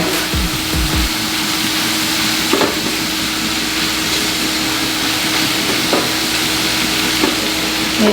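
Spinach frying and wilting in a large pan, a steady bright sizzle with occasional clinks and stirring scrapes, close and continuous, no speech over it.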